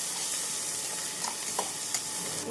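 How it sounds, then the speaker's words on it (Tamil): Ginger garlic paste sizzles steadily as it is sautéed on an induction stove, a soft continuous frying hiss with a few faint stirring clicks. "இஞ்சி பூண்டு விழுது பச்சை வாடை போகும் வரை நாம் நன்றாக வதக்க வேண்டும்."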